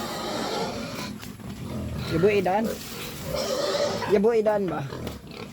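Pigs squealing and grunting for feed in late afternoon, two loud harsh squeal bursts rising over a person talking nearby.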